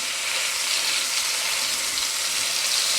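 Smash burger patties fry in a pan, giving a loud, continuous close-up sizzle of spitting fat with no pauses and no other sounds.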